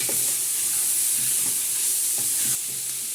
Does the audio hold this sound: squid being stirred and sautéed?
yes